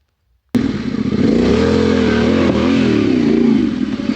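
A Yamaha Tenere 700 adventure motorcycle starts off after a short silence, its engine note rising loudly and steadily as it rides away, with a little clatter, out on a road during a solo camping trip.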